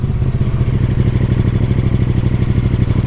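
A KTM motorcycle engine runs in gear on a wet surface, its mid-pitched idle throbbing in a rapid regular pulse with light mechanical clatter, close and steady for the whole stretch.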